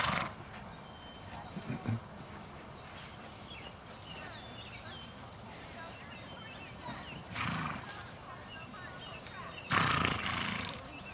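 Horses move around an arena at a horse show, including several green horses, with faint hoof and movement noise under a distant announcer's voice and a few louder bursts of crowd or animal sound.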